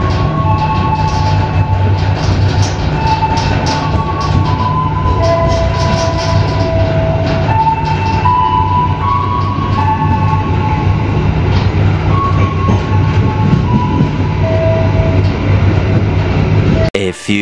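Argo Cheribon passenger train running on rails between Cirebon and Jakarta, heard from inside as a steady, loud rumble and clatter of wheels over track, with a faint tonal whine and no talk.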